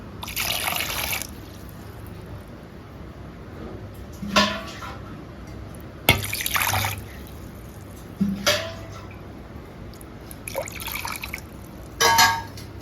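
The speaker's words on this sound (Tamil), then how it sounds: "தண்ணி இது நிறைய அளவுக்கு ஊற்றி வைக்கணும்." Water splashes and pours in several short bursts with pauses between, close by and fairly quiet, with faint drips and clatter of a vessel.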